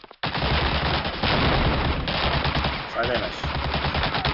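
Rapid automatic gunfire in a video game fires in dense, loud continuous bursts with brief pauses, while a voice speaks briefly over it.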